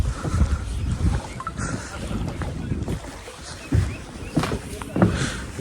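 A Kerala-style tourist boat moving across open water at a sunset point in Channapatna, wind buffeting the microphone and people talking nearby throughout.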